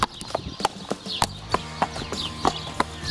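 Horse hooves clopping on a stable floor on a summer day, a series of sharp, fairly close knocks at an uneven, shifting pace with stable background noise between them.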